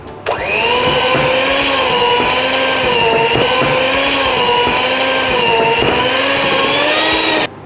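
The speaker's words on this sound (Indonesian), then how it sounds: "kita baru bisa mixer hingga kalis atau terciptanya window pane" A stand mixer kneads bread dough for pandan-filled mung bean buns, its motor droning loud and steady with a whining tone throughout, starting and stopping cleanly.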